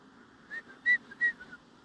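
A faint two-note cuckoo call repeats twice, thin and whistle-like, against near silence; it sounds like a whistled imitation of the bird.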